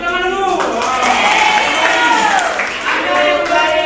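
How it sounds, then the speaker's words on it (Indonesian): Classroom audience at a university teaching practice session clapping for a student group, a few seconds of steady, fairly loud applause with voices mixed in. "Oke, tepuk tangan dulu."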